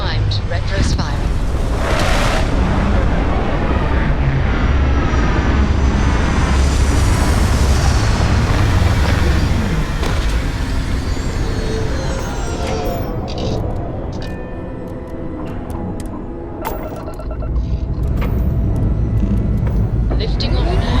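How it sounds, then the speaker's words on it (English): Spacecraft retro rockets fire during lift-off from an outpost: a loud, sustained roaring rumble with surf-like noise that swells, dips briefly, then returns at full strength, with voices speaking over it. "Landing struts primed. Retros firing."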